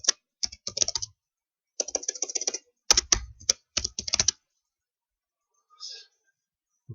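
Fingers type on a computer keyboard in short bursts of quick, crisp key clicks separated by pauses, close and clear, with no other sound around them.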